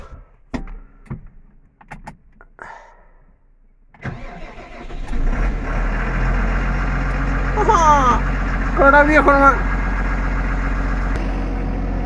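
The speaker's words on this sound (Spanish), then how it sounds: "pusimos en marcha todo. Tractor y la turbina." A tractor engine cranks and catches after a few knocks and brief speech, then settles into a steady, loud idle with a rising whine layered on top from a turbine, during canary grass sowing.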